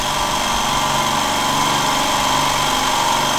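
An air compressor runs nearby with a loud, steady mechanical drone and constant vibration, unbroken from start to finish with no voices.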